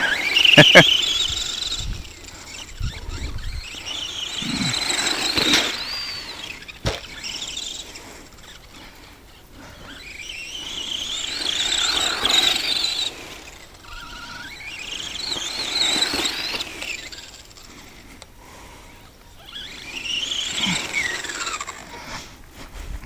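An Arrma Granite RC car's electric motor whines in high-pitched bursts that rise and fall, with squeals repeating across the run, while people talk at intervals.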